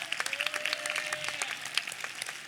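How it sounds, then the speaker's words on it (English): A high school graduation audience applauds the teachers and staff, with crisp, sharp claps rattling close by in an uneven burst that lasts a few seconds, with a faint voice underneath. "let's give a round of applause one more time for our teachers and staff"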